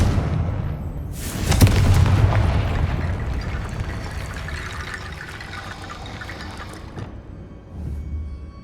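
The Confringo fire spell in Hogwarts Legacy goes off in a loud, booming blast, followed by a long crackling, rushing tail that slowly fades, with a softer rumble near the end.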